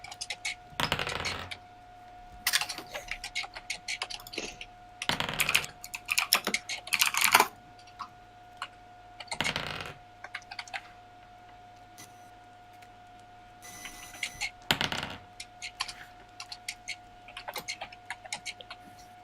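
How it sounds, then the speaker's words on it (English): Dice rolling and clattering on a hard surface in short bursts, several separate rolls spaced a few seconds apart, each a quick rattle of tumbling clicks, close and fairly quiet over a faint steady hum. "I love just hearing random dice rolls."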